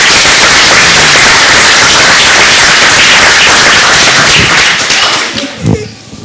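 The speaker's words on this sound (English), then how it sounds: "let's give them a round of applause, please" Applause at a Garfield council meeting, a dense, loud crackle of many hands clapping steadily before tapering off into a few scattered claps and room noise.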